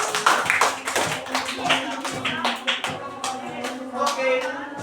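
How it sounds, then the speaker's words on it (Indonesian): Classroom students clap for class 3B in a lively, uneven burst of hand claps, close by and continuous for several seconds, with a voice and some murmuring underneath. "tepuk tangan buat kelas 3B"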